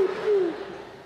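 A voice imitates a city pigeon's coo, a single low sliding hoot that fades out quickly.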